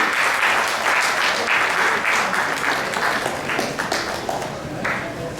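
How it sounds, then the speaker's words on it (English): Winners at a science awards programme receive a hearty burst of audience clapping. It stays loud and even, then tapers slightly toward the end, with no voices over it. "And good round of applause to all these winners."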